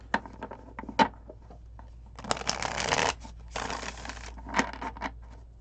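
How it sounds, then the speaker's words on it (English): Tarot cards being shuffled by hand: soft riffling bursts and slaps, with a couple of longer rushing riffles in the middle, close and moderately loud. "let's just shuffle these cards and get into this"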